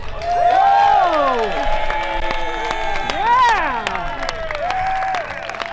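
Crowd at a Denver Broncos stadium game roars and cheers, with rising and falling shouted voices and whoops over a steady wash of noise, loud and close.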